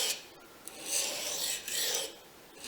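A knife drawn across a fast-cutting diamond sharpening stone at a shallow 15-degree angle, giving two or three raspy, hissing strokes that swell and fade, close and fairly quiet.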